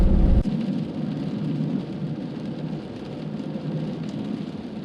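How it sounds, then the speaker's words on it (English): Heavy rain drums steadily on a van while driving in Colorado, a dense loud roar that continues throughout after a brief louder thump at the start. "the rain starts to come down pretty hard"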